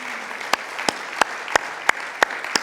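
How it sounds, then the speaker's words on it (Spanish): A church congregation applauds, a loud wash of crowd clapping with steady rhythmic accents roughly three times per second, a faint murmur of voices underneath. "dale un fuerte aplauso al Señor."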